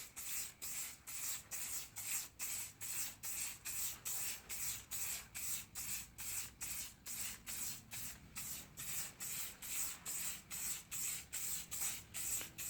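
Short hissing bursts of spray paint are applied to car parts in a quick steady rhythm, roughly two per second, close by, with brief gaps between passes.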